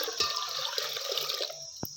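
One litre of water pours into a cooking pot in a steady rushing splash that lasts under two seconds, close and fairly quiet, ending with a brief knock.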